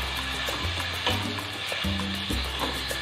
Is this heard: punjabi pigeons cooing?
no